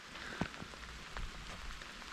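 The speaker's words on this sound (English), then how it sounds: "it's really raining hard at the moment" Heavy rain falling on the stone ruins of Kayaköy ghost town in Turkey, a dense steady hiss with scattered drip taps, fairly faint and without talk.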